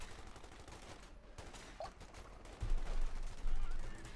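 Machine gun fire in the World War II strategy game Company of Heroes 2, a steady low gunfire rumble with heavier bursts toward the end, heard alone without talk.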